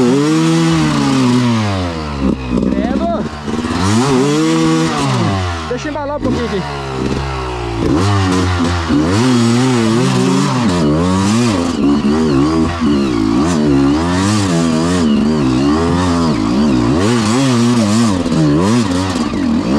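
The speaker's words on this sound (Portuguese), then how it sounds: "Essa moto" A trail motorcycle on a trail ride in Iomerê, Santa Catarina, revs loudly and repeatedly, its engine pitch rising and falling in rapid surges close to the microphone, with voices talking faintly in the background.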